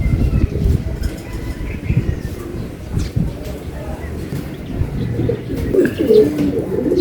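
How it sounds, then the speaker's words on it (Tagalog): Racing pigeons arrive home from a 457 km race from Matnog, Sorsogon, cooing softly near the loft while someone talks over them and small chirps come through. "May tatlong parating mga kaibon."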